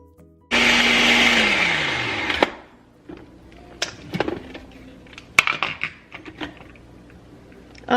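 A blender whirs loudly for about two seconds, mixing homemade pesto with freshly added Parmesan cheese and slowing as it winds down. Scattered clinks and light kitchen handling noises follow.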